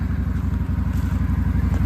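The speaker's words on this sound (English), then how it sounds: "It's a little Can-Am 570. Thing is scary fast, to be honest with you." A Can-Am 570 off-road vehicle engine runs steadily up close, with a fast, even low-pitched pulsing throb and no talk over it.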